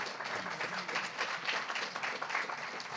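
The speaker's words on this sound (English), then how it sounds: "One more round of applause for Charif Shanahan." Audience applause for a poet at a reading event, a steady wash of many hands clapping at an even level for the whole stretch, with no voices rising above it.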